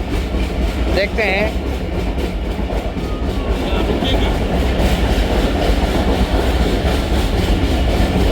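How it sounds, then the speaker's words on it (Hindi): The Mehran Express passes on a loop line in Pakistan behind locomotive number 8215, a loud, close, continuous roar of rolling wheels and rattling cars with a brief squeal near the start, and someone speaks briefly over it. "ये है 149 अब मेहरान एक्सप्रेस है, लोकोमोटिव नंबर 8215 के साथ"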